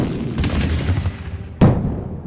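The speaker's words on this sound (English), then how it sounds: "Those are the cannons from Fort McHenry!" Cannon fire from Fort McHenry during a bombardment: a rumbling blast followed by a sharp, loud boom that rings out and decays, with no voices.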